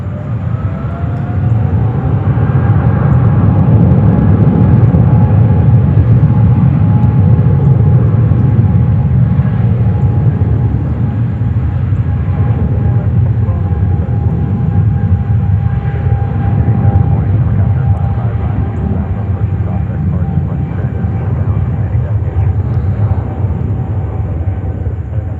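A heavy jet airliner takes off on runway 04 left at JFK with a loud, continuous engine roar that stays strong and steady throughout, its faint whine carried over a broad rumble.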